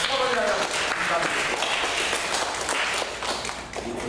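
Church congregation applauding one another, a steady wash of clapping at moderate loudness that thins toward the end, with a voice speaking over it at the start.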